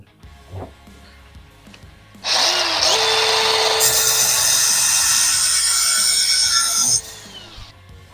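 A power tool cuts an old sawmill blade into chunks, a loud, steady high grinding whine lasting nearly five seconds, preceded and followed by quiet background and light handling noise.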